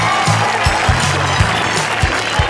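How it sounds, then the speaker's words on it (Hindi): An audience at a 2016 Urdu book fair in Bhiwandi applauds in a steady, dense wash of clapping that carries on throughout, with a few louder claps standing out. "हम तमाम लोग चाहेंगे एक बार जोरदार ताली हमारे शुक्ला जी के लिए"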